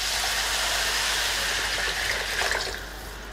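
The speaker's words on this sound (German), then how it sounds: "Jetzt gebe ich einfach mal Wasser rein." Water gushes steadily into a frying pan holding bulgur and turkey, a loud close rushing pour that eases off slightly toward the end.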